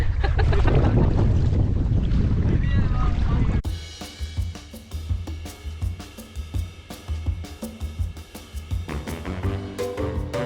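Heavy wind buffeting the microphone with a loud, continuous roar on an island-hopping trip in Puerto Princesa, Palawan, then cutting to quieter outdoor sound with muffled voices and splashes.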